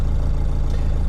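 Diesel engine of a Mercedes W115 /8 220D idling steadily, a low, even, throbbing rumble heard close and alone.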